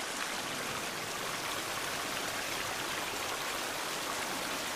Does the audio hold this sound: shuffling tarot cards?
no